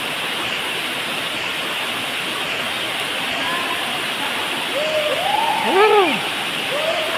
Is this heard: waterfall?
yes